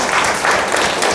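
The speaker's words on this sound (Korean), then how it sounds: "발표해 주신 강창민 선임연구위원님께 뜨거운 박수를 보내겠습니다" An audience at a women's and family policy forum gives a short burst of loud, dense applause for a presenter, many hands clapping at once with no voices on top.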